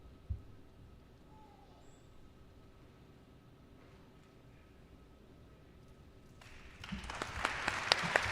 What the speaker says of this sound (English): Another round of applause for the undefeated Wolves from 1962.